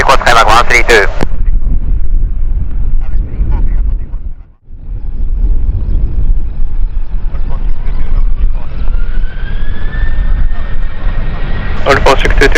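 A Skymark airliner takes off at Kagoshima in heavy, gusty wind. Its broad roar swells steadily under wind buffeting, and a rising engine whine climbs toward the end, with short voice bursts at the start and finish.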